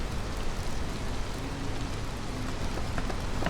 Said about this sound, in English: I love the rain. It really feels wet. We've got some thunder